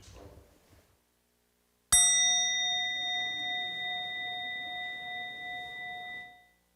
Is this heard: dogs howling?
no